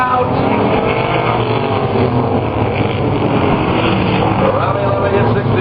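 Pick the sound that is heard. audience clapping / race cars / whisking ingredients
race cars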